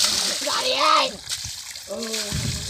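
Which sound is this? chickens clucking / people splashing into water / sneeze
people splashing into water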